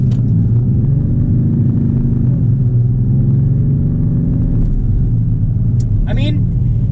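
A 2019 Ram 3500 Laramie dually pickup with 1,000 pound-feet of torque pulls hard from inside the cab, a loud, steady low engine drone rising gradually in pitch over several seconds of acceleration, with brief squeaks near the end.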